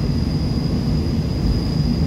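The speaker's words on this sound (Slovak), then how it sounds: "Ale chcel som vám ukázať tento vlak," A Thai third-class rapid train running, a steady loud low rumble with a constant high whine throughout, no voices.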